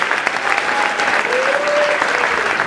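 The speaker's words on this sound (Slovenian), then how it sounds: "en velik aplavz, ekipa leta je strelski klub Brežice" A hall audience at a sports awards evening applauds the Brežice shooting club as team of the year, steady loud clapping throughout with a faint voice under it.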